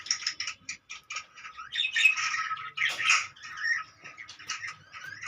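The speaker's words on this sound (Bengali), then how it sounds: "আজকের টপিকস লাভবার্ড পাখির" A pair of lovebirds in a colony setup trade rapid chirps and harsh squawks in quick bursts, close and lively, with short gaps between calls and no talking.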